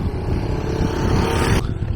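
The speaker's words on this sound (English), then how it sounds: "Sounds like there's like a bike or something coming." A motorbike approaching on a mountain road in Lytle Creek, a steady engine drone that builds slightly in loudness over about a second and a half and then drops off, with wind noise and no talk.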